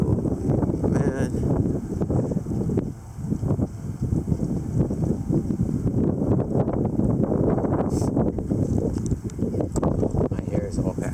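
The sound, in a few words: strong wind gust during a dusty wind storm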